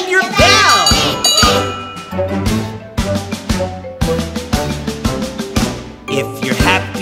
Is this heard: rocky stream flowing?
no